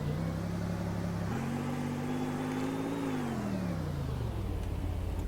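A car driving in the Roblox game Car Dealership Tycoon, its engine droning steadily, rising in pitch as it revs up, then sliding back down, continuous and close with no talk.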